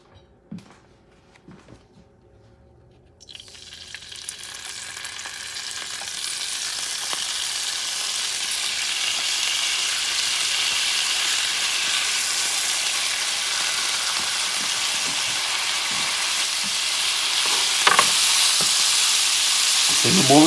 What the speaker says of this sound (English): one of the things you're going to start doing is cooking the beef